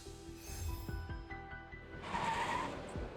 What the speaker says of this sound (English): The truck shudders to a stop as several familiar faces hop off.